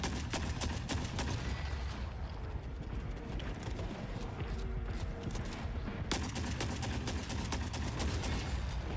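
A turret in Forever Winter hammers out a long, rapid stream of gunfire, a steady rattling barrage that runs for several seconds, briefly eases in the middle, then resumes at full pace, loud and without talk.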